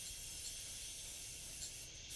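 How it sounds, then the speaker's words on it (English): Spray paint can hissing out white paint in a steady continuous spray, close and fairly loud, with no talking. "I'm going to spray a little bit more white right about here."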